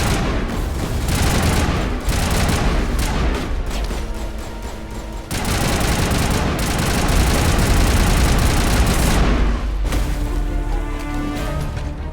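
Sustained rifle gunfire and explosions in the Mass Effect Legendary Edition video game, dense rapid bursts and booms filling the whole stretch with only a couple of brief lulls, loud and up close.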